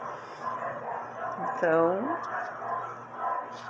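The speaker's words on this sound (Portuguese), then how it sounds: "Aí tem cachorro latindo." A dog barks and yips once in the background of a home setting, one short harmonic yelp under steady talk and a constant low hum.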